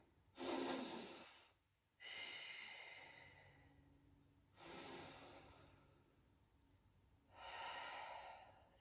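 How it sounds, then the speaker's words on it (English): Slow, deep breaths during a yoga practice: four long airy inhales and exhales, close and soft, with quiet pauses between them and no talking. "Let's take a couple of deep breaths here."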